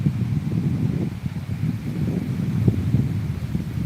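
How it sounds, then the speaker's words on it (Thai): Cool wind blowing outdoors, a steady low rushing buffet against the microphone that continues without a break and with no voices. "ลมเย็นจังเลย"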